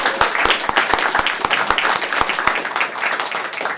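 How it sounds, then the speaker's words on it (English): An audience applauds for a man's wife and daughter at a live event, a dense wash of clapping with a few sharp, regular claps standing out near the front, steady throughout. "I'd like to give a round of applause to them."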